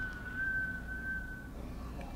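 A single sustained whistled note from a TV episode holds steady for about a second and a half, then fades, with faint background ambience and no talk over it.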